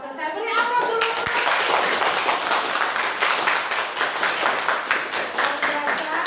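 An audience in a classroom or meeting hall applauds after a presentation, steady dense clapping from many hands lasting several seconds, loud and close, with a brief voice at the start.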